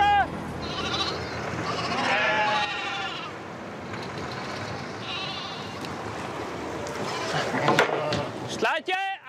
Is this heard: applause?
no